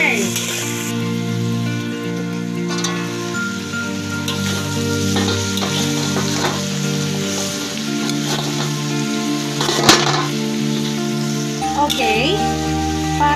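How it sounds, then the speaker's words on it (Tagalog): Chopsuey vegetables including broccoli and cauliflower stir-fried in a pan, with a loud continuous sizzle and occasional scraping clatters of stirring, heard close, while a background musical tone drones beneath. "Halo-haloin natin para pantay ang kanyang lasa."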